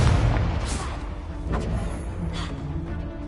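A Confringo spell explosion in the Hogwarts Legacy video game lands as a booming burst at the start, followed by rumbling decay and a couple of softer whooshing bursts, fairly loud with no talk.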